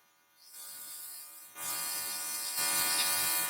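An airbrush sprays eyeshadow in a steady close hiss that starts soft, then jumps louder in two stages and holds, with no talking.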